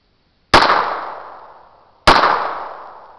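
A Beretta Neos .22 target pistol fires two loud, sharp shots about a second and a half apart, each crack trailing off in a long, fading ring.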